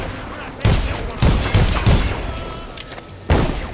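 Bursts of gunfire in the Dishonored video game, aimed at rats, roughly five sharp booming shots at irregular intervals over a noisy, busy game background.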